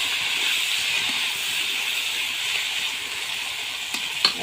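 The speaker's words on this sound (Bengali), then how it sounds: "আমার এখানে মাংসটা কষানো হচ্ছে" Mutton braises in a pan on a stove with a steady, loud hiss and sizzle that holds evenly throughout, closing with a couple of brief sharper spits of fat.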